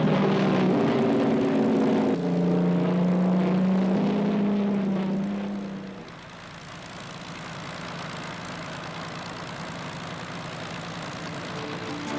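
Propeller aircraft, Spitfires and Hurricanes, drone steadily overhead with a loud engine roar that fades slightly partway through and then settles into a lower, continuous hum.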